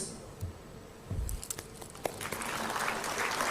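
An audience at an awards ceremony in a hall breaks into applause that builds from scattered claps into steady, dense clapping filling the room.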